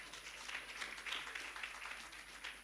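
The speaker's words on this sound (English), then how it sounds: "Please, a round of applause for me." Steady, moderately distant applause from an audience at an economic development fund report launch, a dense patter of clapping holding evenly throughout.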